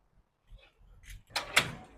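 A door is opened indoors with a few soft handling sounds, then a brief rattle of the latch and two sharper clacks as it swings free.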